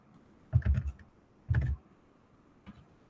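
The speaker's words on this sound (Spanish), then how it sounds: "teclado" Keys are tapped on a computer keyboard in two quick clusters of clicks close to the microphone, followed by a single faint tap, with quiet between the bursts.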